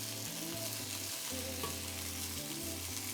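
Turkey donair meat sizzles in a frying pan over medium-high heat, a steady, dense crackle that stays close and even throughout with no voices over it.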